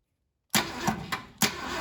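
A 1968 Ford Galaxie 500 engine, long left sitting, cranks over on a trigger starter wired to the solenoid. After a moment of silence come loud, close, uneven turning bursts with a brief pause before a final burst.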